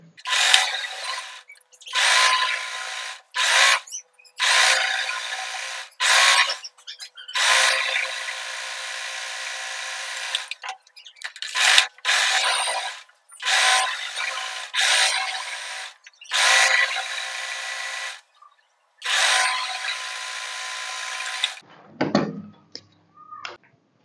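A sewing machine stitches the side seams of a short kurti in about a dozen quick whirring bursts separated by brief pauses, loud and close, before falling silent at the end.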